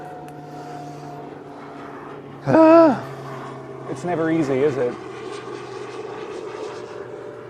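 A small airplane passes near a small airport, its engine tone rising briefly and fairly loud for a moment, then a second shorter engine swell, over a steady background hum with a short spoken remark.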